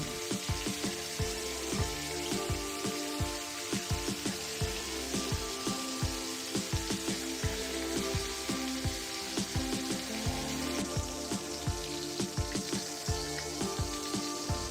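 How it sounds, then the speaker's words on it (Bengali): Chopped tomatoes hit a ginger-garlic spice paste frying for ghugni, a constant hiss of sizzling oil broken by repeated sharp clicks and knocks, with steady tonal hum underneath throughout. "মশলাটা ভালো করে কষে এলে এর মধ্যে আমরা দিয়ে দেব আগে থেকে কুচিয়ে রাখা টমেটো"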